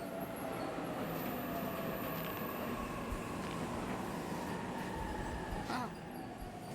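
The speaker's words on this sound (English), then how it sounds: "Train's already here." A train pulls in within the 13 Sentinels: Aegis Rim video game, a steady loud rumble of rolling wagons with a faint rising squeal near the end, heard alone without talk.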